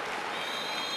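Futsal crowd at a Brazil versus Morocco friendly applauding and cheering in a steady, dense wash of clapping and crowd noise filling the arena for a full second.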